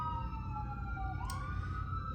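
Outside a city centre, an ambulance siren gives a steady, faint, wavering wail from some distance, sitting above a constant low rumble of background noise.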